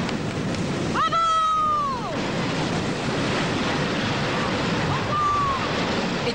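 Ocean breakers crash onto a shore where a boat is being launched, a steady windy roar of surf close by, with a brief whistling tone rising over it early on.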